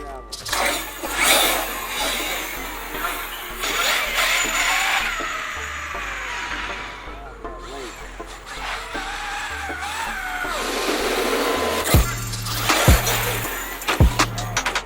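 A Traxxas X-Maxx RC truck with a HobbyWing Max5 800kv motor setup is on a test run. Rising and falling motor whine mixes with rough rolling and clattering, and a few sharp knocks come near the end, with voices faint in the background.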